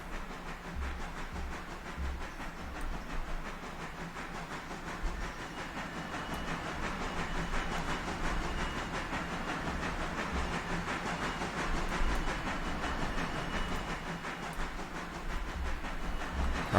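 A locomotive shoves a string of railroad cars back in the Railroader video game, a steady rumbling rail drone with hiss and clanking texture running continuously, moderately loud and alone without talk.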